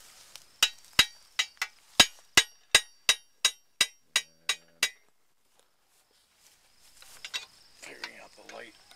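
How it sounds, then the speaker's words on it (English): A hammer peens a scythe blade, a rapid steady run of about a dozen sharp metallic strikes that ring briefly, then stop, followed by quieter handling sounds. "I've fooled around with my hammer to make it a little flatter"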